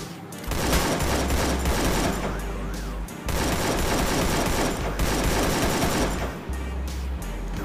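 Rapid gunfire bursts in the video game Free Fire fill the clip, loud and continuous with brief pauses between volleys, no talking.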